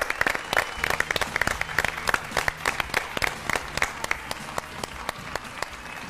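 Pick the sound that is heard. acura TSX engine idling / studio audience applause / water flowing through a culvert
studio audience applause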